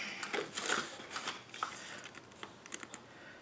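Scissors snip through card stock during card-making crafts, a few light, close cuts mixed with soft paper rustling and crinkling.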